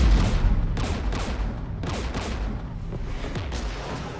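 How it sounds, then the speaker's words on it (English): Sustained battle gunfire from the Mass Effect video game, with dense overlapping shots and booming blasts forming a loud, continuous barrage of repeated bursts. "We're taking fire."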